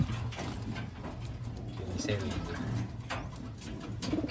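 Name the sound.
grizzle and blue check Taiwan pigeons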